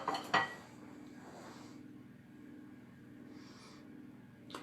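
A knife spreads softened butter across bread slices with faint, soft scraping strokes, opening with a brief clink of metal on a plate, then quiet, intermittent smearing sounds close by.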